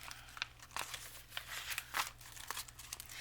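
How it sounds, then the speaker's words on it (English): A small Dollar Tree zipper pouch is handled up close, with a series of soft crinkling and rustling bursts in an otherwise quiet room. "So just stick these back in my little zipper pouch."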